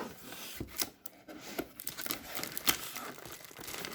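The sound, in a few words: unwrapping dollhouse kit packaging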